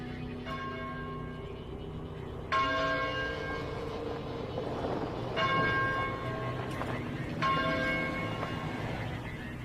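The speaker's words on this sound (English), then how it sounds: "Is that a church bell?" A church bell tolls four times at slow, even intervals, each strike ringing out and lingering over a quiet background.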